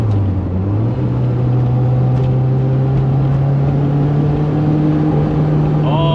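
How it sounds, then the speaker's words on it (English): A 1983 Lotus Turbo Esprit drives in fourth gear, its engine droning steadily and loudly from inside the cabin, the turbo flutter blending into the continuous engine hum. "We've got the turbo flutter."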